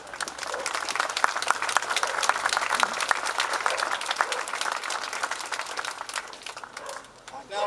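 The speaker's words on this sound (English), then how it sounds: "And I think they deserve a round of applause." Sustained crowd applause at an outdoor jubilee celebration in Henley-in-Arden, dense steady clapping from many hands throughout, fairly loud and close, easing briefly near the end.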